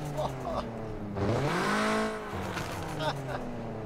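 A car engine fitted with a downpipe exhaust revs hard in Car Parking Multiplayer, a rising then falling wail that peaks mid-clip, with someone talking around it.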